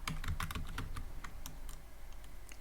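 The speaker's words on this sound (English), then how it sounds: "I'll go down here and I'll type product" Code is being typed on a computer keyboard in quick irregular bursts of close, crisp key clicks, easing to sparser taps toward the end.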